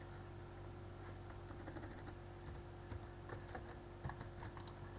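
Soft, rapid typing on a computer keyboard, a steady patter of faint key clicks over a constant low electrical hum, with no talking.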